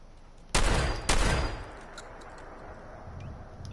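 Two loud, close gunshots in Fallout 4, each booming with a rolling echo that fades into quieter ambient noise, followed by faint distant clicks.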